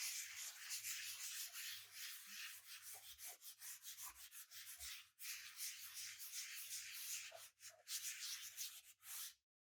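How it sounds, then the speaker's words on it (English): Sandpaper is rubbed over an MDF board in circular motions, making a soft, steady hiss of rasping strokes with brief pauses that lasts nearly ten seconds before stopping abruptly. "So piece of sandpaper, and you're doing a circular motions, and you want to go over it to roughen it up."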